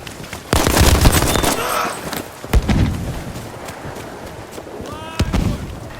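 Model 27 revolver fired in Battlefield 5, three loud, widely spaced single shots with sharp onsets and booming tails, set against a busy background of game noise and faint voices.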